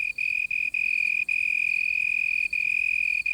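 A male cricket on a leaf sends out a steady, piercing high trill that runs almost continuously, broken only by a few brief gaps. It is loud and close, and no one is talking.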